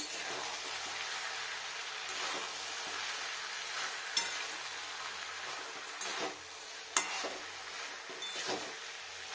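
Broccoli frying in a pan for a vegetarian dish made without onion or garlic, with a steady sizzle throughout and occasional scraping clicks as the pieces are stirred and turned over.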